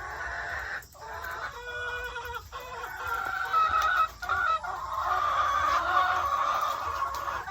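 Chickens cluck and murmur continuously nearby, with a rooster-like call rising above the steady flock chatter.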